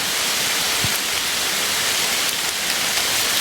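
Rain falls steadily in an even, dense hiss, with a faint low knock, no voices.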